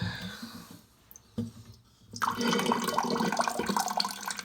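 Water drained from a toilet tank during a fill valve replacement is poured into the toilet bowl. A close, loud splashing rush starts after a few quiet seconds and keeps going.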